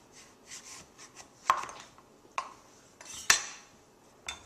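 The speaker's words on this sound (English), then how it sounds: "The next step that you want to do with your squash is cut them in half." A knife cuts through a butternut squash on a board, giving sharp, irregular knocks and thunks spread over several seconds, close and clear with no voice.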